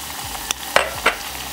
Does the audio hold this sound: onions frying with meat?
yes